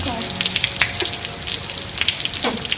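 Rain pours down on someone showering outdoors in the open, a steady broadband splashing and gushing with scattered louder drip bursts, close and continuous throughout.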